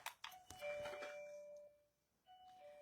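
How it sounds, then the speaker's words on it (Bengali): A doorbell chimes indoors in a few clear, ringing electronic tones with a sustained decay, then a quieter repeat near the end, with no talking. "Calling bell."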